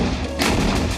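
A 155 mm Indian Army howitzer fires, its single loud, deep blast erupting abruptly over a rumbling background and filling the short stretch without any speech.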